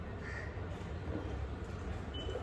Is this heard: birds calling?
yes